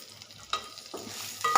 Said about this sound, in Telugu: కొంచెం నెయ్యి వేస్తున్నానండి. నేతిలో వేగితే ఆకు బాగుంటుంది